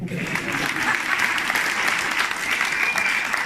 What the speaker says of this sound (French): Alors applaudissez-vous.